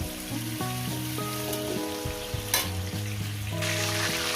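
Prawns frying in a pan for a spinach and prawn dish, a steady crackle with bursts of stirring, over a sustained melodic background tone and no voices.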